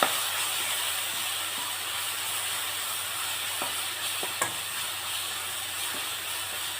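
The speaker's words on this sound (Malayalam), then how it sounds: "വഴറ്റിയെടുക്കാം." Food sautéing in a pan with a steady, close frying hiss, broken by a few sharp clicks and scrapes of stirring toward the middle; no voices.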